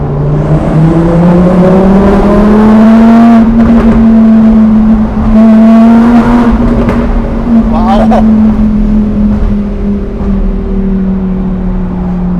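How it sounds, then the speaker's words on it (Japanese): A Lamborghini Huracán EVO Spyder engine revs hard and loud up close on a Tokyo street, its pitch rising and falling, with sharp popping exhaust backfires cracking out several times and a voice talking. "まるでレーシングカーのようなバックファイヤー。"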